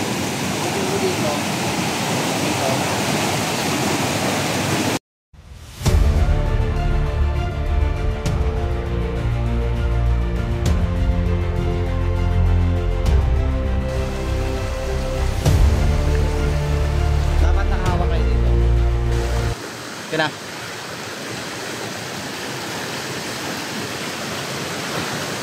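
Strong rushing water flows through a forest in a loud, steady broadband roar, with brief breaks where the sound cuts out and a quieter wash of water at the start and end.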